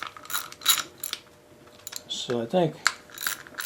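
A ratchet tightens bolts during a Briggs & Stratton Model Y engine rebuild, giving short bursts of close, rapid clicking, followed by a brief spoken remark and a few more clicks.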